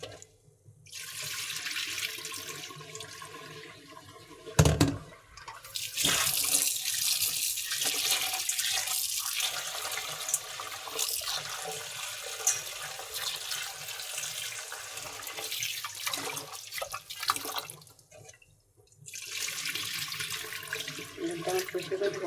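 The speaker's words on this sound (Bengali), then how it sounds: "এখন ডালটা ধুয়ে পরিষ্কার করে নিয়ে" Lentils are rinsed under a running tap, a steady rush of water with sloshing and splashing from the grains being swirled, close and fairly loud for about twenty seconds, broken by a few knocks and a short lull near the end.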